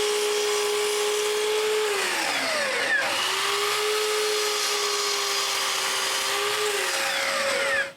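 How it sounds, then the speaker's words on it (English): A miter saw whirs steadily for Christmas decorations, its motor dipping in pitch twice as the blade bites into wood, then spinning back up, loud and close with no talk. "the miter saw is the right tool for the job"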